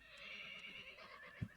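Horse whinny in the video game OpenTTD, a faint, drawn-out neigh with a brief hoof clop near the end, heard alone.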